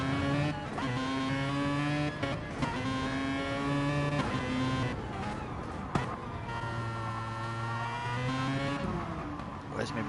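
A race car engine in a sim racing game whines steadily with a thin, buzzy tone, rising and dropping through gear changes, loud and continuous without pause.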